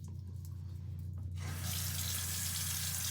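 Warm water gushes from a sink tap for rinsing the face, starting abruptly partway through and then running in a steady, close hiss.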